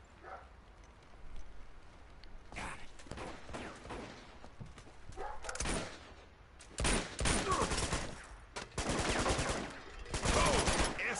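Gunfire rings out in Uncharted 2 as shots are aimed at a padlock. Sharp, loud bangs come in bursts and rapid volleys, with voices heard between them.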